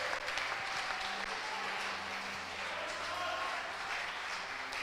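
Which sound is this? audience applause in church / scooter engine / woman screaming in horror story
audience applause in church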